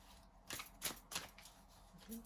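Brief riffling bursts of cards being shuffled, three or four quick crisp flurries close by, fairly quiet, with no talking.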